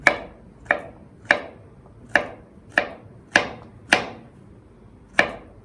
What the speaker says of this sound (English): And just chop it very finely